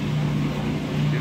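Kenmore top-load washing machine draining before shifting its transmission to spin, a steady low motor and pump hum that stays close and constant throughout.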